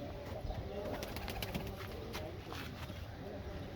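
Pigeons coo in a small enclosure where chicks have already hatched, soft repeated calls over a busy background with occasional clicks and faint voices.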